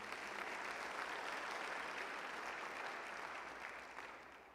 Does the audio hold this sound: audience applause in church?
yes